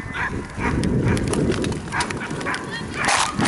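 Dogs bark loudly and repeatedly in close, overlapping bursts outdoors, with busy rustling and movement noise between the barks.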